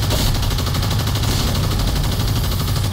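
Steady, loud gunfire from the Evolve video game pours out for a few seconds as a dense, continuous barrage with no pauses and no talk over it.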